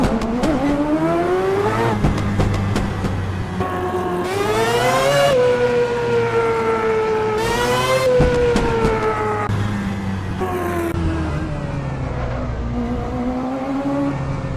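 Loud, continuous shriek of a Mazda 787B race car's rotary engine in a racing game, climbing through revs with repeated sharp gear-change dips and swells.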